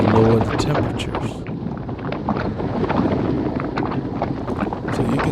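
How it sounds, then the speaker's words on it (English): Wind buffets past a cyclist on a group ride on a cool, windy day, a loud, gusting roar that rises and falls throughout. "even though this wind's swirling around"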